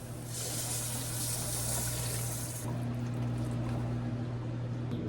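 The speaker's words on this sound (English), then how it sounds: "So we're now going to take our chicken broth." Chicken broth pours steadily into a pot with a bright splashing rush that stops partway, leaving a low hum behind.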